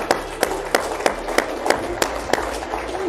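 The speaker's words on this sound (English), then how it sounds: "while you're clapping" Audience applause at a Charlie Munger speech: a steady wash of clapping from a crowd with a few sharper, louder claps cutting through at roughly regular intervals, continuing throughout.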